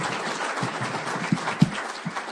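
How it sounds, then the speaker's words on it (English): Applause at a chamber of commerce awards banquet, scattered and uneven, with a few sharp louder claps standing out from a thinner patter of hands in a large room. "A big round of applause for everyone that participated in that video"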